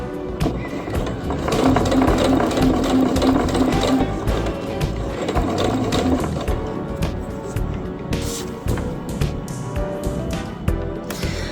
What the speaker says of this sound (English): Okay, so I am just continuing sewing along.